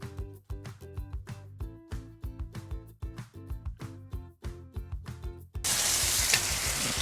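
Breakfast food on a Weber Slate griddle, with rhythmic clanking spatula flips and taps for about five seconds before a loud, steady sizzle takes over, close and with no talk.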